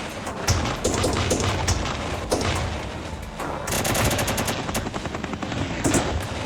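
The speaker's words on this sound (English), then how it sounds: "The chopper." A helicopter sound effect plays on a Zaccaria pinball video game table, a loud rapid chopping rotor clatter mixed with bursts of electronic gunfire-like effects, with no talking.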